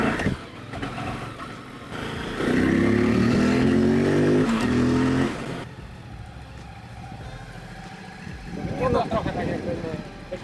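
An MBP C652V cruiser motorcycle with a V2 engine revs up with a rising, droning note for a few seconds, drops back, and then pulls away with a rougher engine sound near the end.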